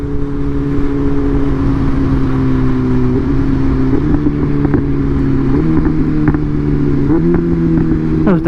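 A BMW M1000R motorcycle's engine revs hard and steps through a series of downshifts, each gear change marked by a sharp blip and pitch jump, loud and close.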